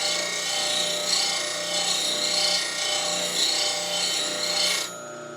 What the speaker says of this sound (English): This side was sharpening, this side not, so I lift that angle up just a little bit on the handle.